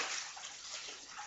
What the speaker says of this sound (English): The sexy sound of hot water.